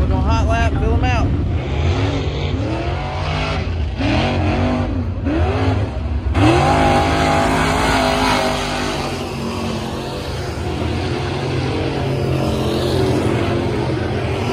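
Dirt track race car running hot laps at a raceway season opener, its engine loud and revving with rising and falling pitch sweeps as it passes, a steady roar continuing throughout with talk mixed in.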